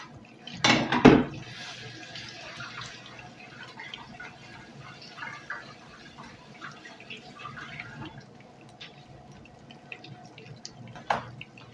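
Fishcakes frying in a pan give off a soft, steady crackling sizzle, opened by a brief clatter near the start and a small knock near the end.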